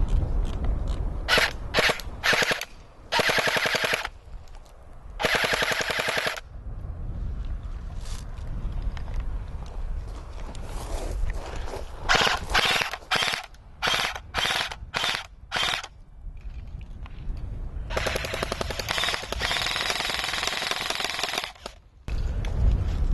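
Airsoft gun firing at cheap plastic safety glasses outdoors, loud rapid bursts of sharp clicking shots with brief pauses between volleys, close and continuous for long stretches.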